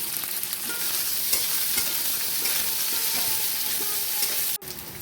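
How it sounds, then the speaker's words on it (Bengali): Chopped onion frying in oil after garlic, with a loud, continuous sizzle and a scraping stir running throughout, then a sharp knock near the end. "আমি পেঁয়াজ কুচি দিচ্ছি।"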